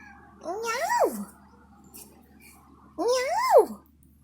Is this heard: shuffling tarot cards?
no